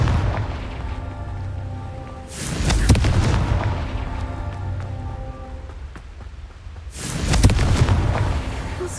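Two heavy booming blasts, one near the start and one late, burst over a low game soundscape, fitting the Confringo fire spell exploding in Hogwarts Legacy.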